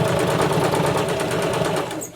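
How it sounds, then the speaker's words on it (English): A sewing machine stitches a fabric face mask just under 3/8 inch from the edge, the presser foot guiding the seam, giving a loud, steady rapid needle rattle that runs continuously before easing off at the end. "And I'm sewing just under 3/8 of an inch so I can catch that lip"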